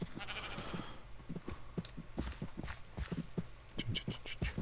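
A small lamb in Minecraft bleats several times among soft clicking footstep sounds, with a person talking quietly in the background.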